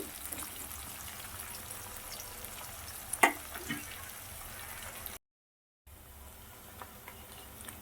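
Tomato rice ingredients frying in oil in a pan, a low, soft sizzle with a single sharp clink partway through, then a brief silent gap before the quiet frying resumes.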